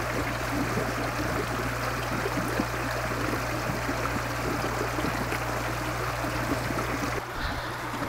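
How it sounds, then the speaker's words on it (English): Water circulating through an aquaponic mineralization tank, pulled along by an airlift, makes a steady, close rushing and bubbling trickle with a low hum underneath, unbroken throughout. "that airlift is doing a great job pulling that water and circulating all that muck through there so it doesn't clog up at all now"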